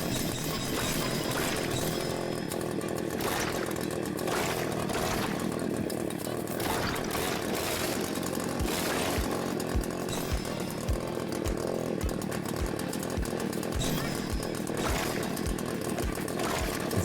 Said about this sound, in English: Okay, now that we have the chainsaw.